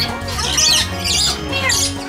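A bird perched on a person at the zoo lets out harsh, close squawks in bursts over about two seconds, against a busy background of voices and hum.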